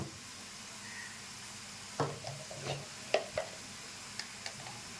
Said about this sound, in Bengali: এটাকে ভালো করে একটু ভেজে নিচ্ছি।